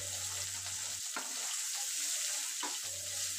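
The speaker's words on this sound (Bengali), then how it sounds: "গাজরটা কিছুক্ষণ ভেজে নেব" Chopped carrots frying in a pan for vegetarian pasta, giving a steady low sizzle that runs throughout, with a few brief stirring clatters over it and no talking.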